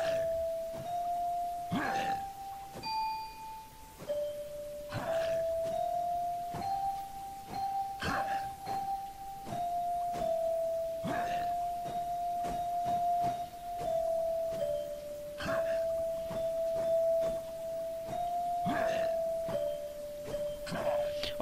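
A simple folk tune, 'Běžela ovečka', plays as a slow sequence of sustained single bell-like notes in the game Guild Wars 2, with soft wind-like noise bursts between notes.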